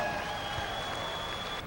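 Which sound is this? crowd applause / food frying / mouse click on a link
crowd applause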